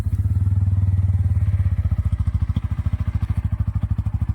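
A Bajaj N160 motorcycle engine idles close by, its single-cylinder exhaust thumping in a steady, rapid pulse that holds loud and even throughout.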